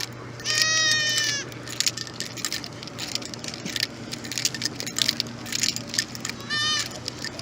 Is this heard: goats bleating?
yes